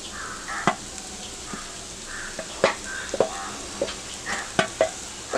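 Boiled eggs are mashed and stir-fried with sautéed spices and coriander for egg kheema, a soft continuous sizzle punctuated by irregular sharp taps and scrapes of a spatula in the pan, close.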